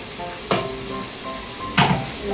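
Halved green chilli sautéing in a pan, a soft steady sizzle with two brief scraping stirs and light utensil clinks, no voices.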